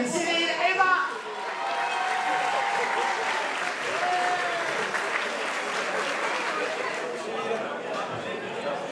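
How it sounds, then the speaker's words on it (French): At the OFAC 2014 motorsport awards ceremony, a crowd applauds a Maxi Sprint category podium finisher with steady, sustained clapping. A brief voice is heard at the start, and murmured chatter runs under the applause. "merci d'applaudir Cyril Eva."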